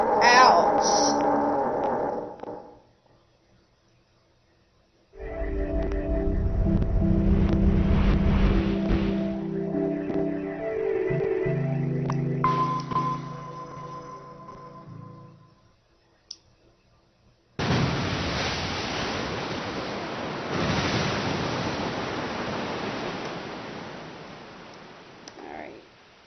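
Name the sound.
rushing flood of water in the video game 999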